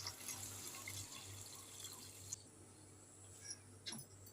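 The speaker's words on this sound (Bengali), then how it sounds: "এবারে জল দিয়ে দিচ্ছি" Water is added to a pan of potatoes browned in spices for a soya-bean bora and potato curry, giving a soft steady trickle and splash with a low hum beneath and a couple of brief clinks near the end.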